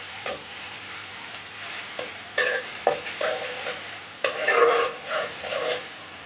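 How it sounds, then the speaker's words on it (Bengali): Sliced onions with a little garlic paste fry in a pan, a soft steady sizzle broken by repeated scraping stirs of a spoon, close and fairly clear. "এখন আমি ভালো মতো পেঁয়াজটাকে ভেজে দেব।"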